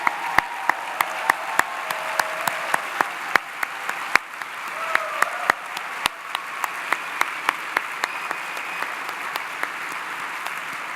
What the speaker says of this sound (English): join together in a round of applause to acknowledge the tremendous work that they do